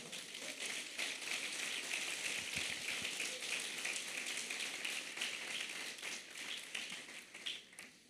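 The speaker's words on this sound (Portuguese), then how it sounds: "Você pode aplaudir ao Senhor?" A Baptist church congregation applauds during a service, a steady, dense wash of many hands clapping that holds evenly for about eight seconds, fairly soft and distant, with no voices.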